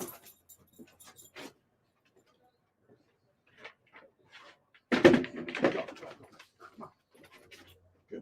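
A dog waits at a house door, with soft intermittent panting and whimpers, a louder burst of movement and snuffling midway, then more scattered small sounds.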